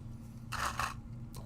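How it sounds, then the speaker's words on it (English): Two quick hissing puffs of pixie spray misted from a spray bottle onto a painting in progress, close and soft, with a faint third spritz at the end over a low steady hum. "let's hit this with a little bit of pixie spray"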